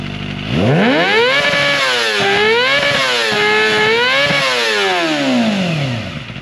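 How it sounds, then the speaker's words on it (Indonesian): A Kawasaki ZX25R motorcycle's Akrapovic exhaust revved hard to the rev limit, a loud rasping wail bouncing up and down several times before dropping off at the end. "ini untuk suara dari limit dari knalpot Akrapovic guys ya"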